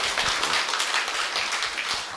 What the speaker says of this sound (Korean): 대표님께 다시 한번 큰 박수 부탁드리겠습니다